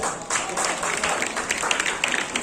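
An audience at a school Independence Day event applauding, a dense burst of clapping that carries on steadily after a brief lull at the start, with faint voices mixed in.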